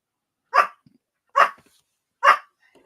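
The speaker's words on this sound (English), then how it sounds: "It wouldn't be me, would it, without some little barky dog in the background at some point." A small dog barks in the background, three sharp, evenly spaced yaps at a moderate distance with silence between them.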